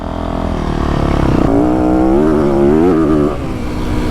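A Yamaha YZ450F dirt bike engine revs up loud and close on a motocross vet track, its pitch climbing and wavering through a few seconds of throttle before dropping back, with no talking.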